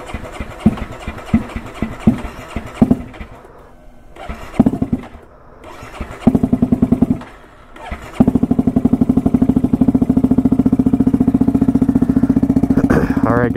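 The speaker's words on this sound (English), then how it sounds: "enjoy the riding footage with the Turbo GROM" A turbocharged Honda Grom with a swapped-in CBR engine cranks, stutters and revs in short uneven bursts, then settles into a loud, close, rapid steady idle.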